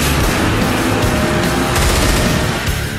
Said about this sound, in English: You start off with the machine gun. It has unlimited ammo and a decent rate of fire.